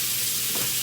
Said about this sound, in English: if you don't hear the sizzle when it goes in